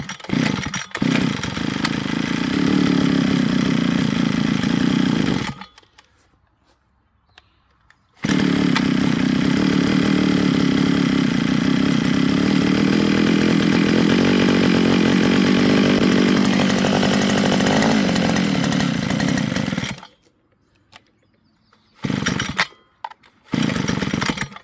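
A 52cc gas string trimmer engine starts and runs at a loud, steady buzzing drone up close, cuts out into a few seconds of silence, then revs again for a long stretch before short bursts and stops.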